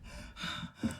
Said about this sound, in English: This is the sound of her breathing from the beginning of the movie,